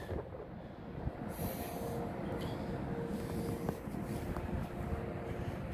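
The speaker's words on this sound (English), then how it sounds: "That's a northbound manifest train." A northbound CN manifest freight train led by an ES44DC and a C44-9W locomotive rolls past, a steady rumble of wheels and railcars with occasional sharper clanks, heard alone at moderate distance.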